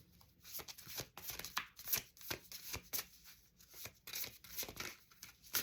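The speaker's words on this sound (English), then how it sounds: "These are not easy to shuffle." A hard-to-shuffle deck of tarot-style cards is riffled and shuffled up close in repeated bursts of crisp flapping and riffling, each burst separated by short pauses.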